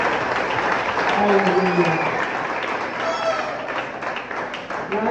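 Church congregation applauding loudly and steadily for several seconds, a dense wash of clapping with cheers, while a voice speaks over it.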